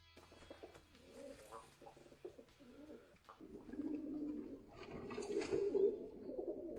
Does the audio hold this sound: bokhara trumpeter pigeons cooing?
yes